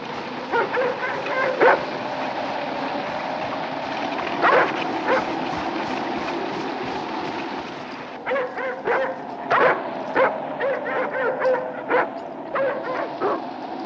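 Tired, footsore sled dogs bark in short, repeated yips and bow-wows, with whimpers and whines in between. The sound is close and comes in uneven bursts, with no talk.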